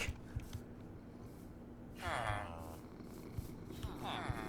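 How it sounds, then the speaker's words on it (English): A cat purring in the video game Minecraft, a soft continuous low rumble with faint game sounds over it and a couple of brief brighter bursts. "It's this cat! They're on auto purr."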